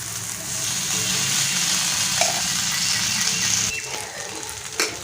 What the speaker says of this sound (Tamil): தோசை தவா ஹீட் ஆனதுக்கப்புறம் ஆயில் போட்டு நம்ம ரெடி பண்ணி வச்சுருக்க மேகியை வச்சுக்கலாம்